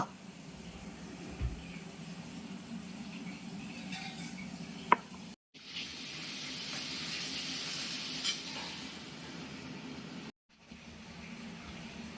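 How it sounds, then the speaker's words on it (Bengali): Pangas fish sizzling as it fries in a hot pan with whole garam masala spices, a steady close crackle that drops out briefly twice, with a few faint clinks and no talk. "সাবধানের সহিত মাছগুলোকে এবার ভেজে নেওয়া হবে"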